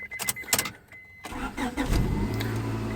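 A 1998–2002 Honda Accord with an automatic transmission and a swapped JDM F23A engine, 153,000 miles, starts with a few clicks and a short cranking whir, then catches and settles into a steady, close idle.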